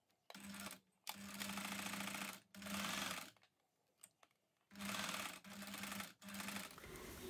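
A sewing machine running a straight stitch at about 3.5 length through elastic lace for lace underwear, in several close, loud bursts of rapid whirring stitching separated by short pauses.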